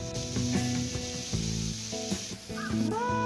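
Sliced onions sizzle and fry in a pan for anchovy thokku, a steady close crackle with faint stirring scrapes and clinks, no voices.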